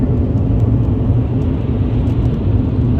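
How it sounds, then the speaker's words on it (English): Dense heavy road traffic passes as a continuous low rumbling roar of engines and tyres, steady and fairly loud, with no speech. "Heavy amounts of traffic is on the road."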